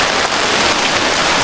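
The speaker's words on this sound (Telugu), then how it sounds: "వర్షం బాగా పడుతుందిలే" Heavy rain pours steadily onto surfaces outside a flooded house, a dense, continuous hiss of drops with no pauses and no voices.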